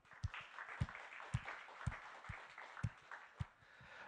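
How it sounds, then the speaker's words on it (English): Scattered audience applause at the Facebook Hacker Cup finals, with sparse, distinct hand claps in a loose rhythm, fairly faint and distant. "a big round of applause to Gennady"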